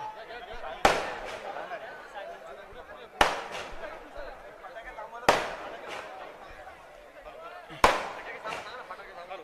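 Firecrackers go off at an outdoor political party branch welcome, four sharp loud bangs spaced a couple of seconds apart, each with a crackling tail, over a murmuring crowd.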